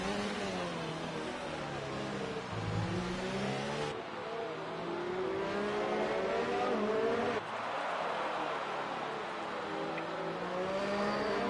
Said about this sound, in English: You can hear those tires starting to just try and bite